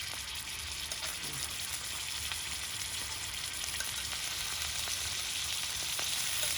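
Chicken pieces grill in a tablespoon of oil in a pan, making a steady, even, broadband sizzle at close range for several seconds, with no talk.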